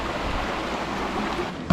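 A countryside river flows past the bank, a steady broadband rush of water, close and even, with a brief knock near the end.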